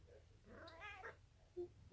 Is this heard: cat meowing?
yes